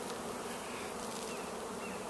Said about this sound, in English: These are my bees. They're all at work this morning doing their job.